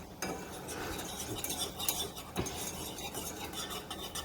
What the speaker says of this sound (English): It is really important to keep stirring this.